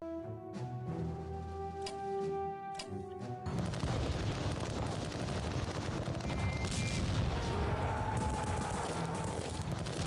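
Artillery bombardment in the World War I strategy game Strategic Command, with dense rumbling booms and crackling fire rolling continuously after a quieter musical opening, loud and sustained.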